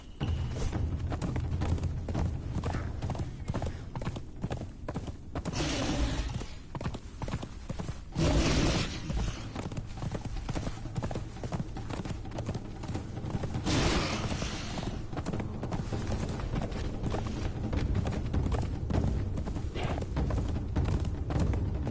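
Horse hooves clip-clop steadily through a long stretch of gameplay in Conan Exiles. The rhythmic hoofbeats run over continuous dense background game sound, and a few louder bursts break in along the way.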